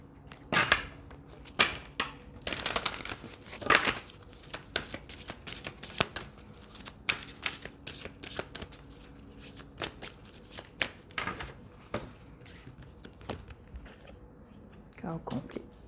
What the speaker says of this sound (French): Et je vais tirer une dernière carte.